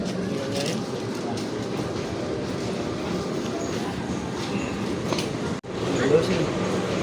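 A train rolls into Kutoarjo station with a steady, loud rumble of wheels and carriages, then a brief sharp break in the noise near the end. Voices talk over the rumble.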